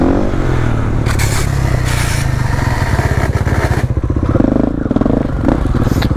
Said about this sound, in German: Wir machen gleich ein Wheelie, okay?